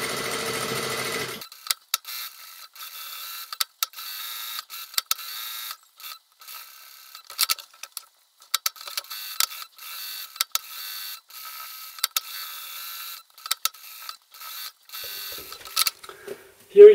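A sewing machine stitches softshell fabric for a vest: rapid mechanical whirring runs in repeated short bursts separated by pauses, close and clear, with quiet handling noises between stitches.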